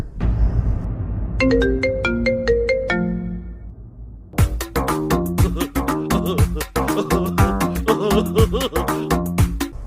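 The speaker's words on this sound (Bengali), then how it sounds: "ওই কপিলে ফোন দিয়েছে রে" A phone ringtone plays loudly and alone: a short rising melodic chime phrase repeats a few times, then a fuller, busier musical ringtone tune carries on without pause to the end.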